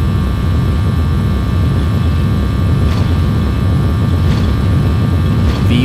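Airbus A320 jet engines at takeoff power during the takeoff roll, a loud, steady broadband roar heard from inside the aircraft, constant and unbroken with no talk over it.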